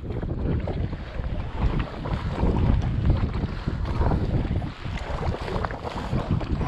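Small ripples lap against the hull of a small boat drifting in the wind, a steady soft splashing and sloshing close by, mixed with heavy wind buffeting the microphone.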